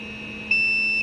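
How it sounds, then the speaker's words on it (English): A TR-600 powered air-purifying respirator's low-flow alarm gives a single steady high-pitched electronic beep for about half a second over a faint low hum, fairly quiet and close. "You will hear that audible alarm"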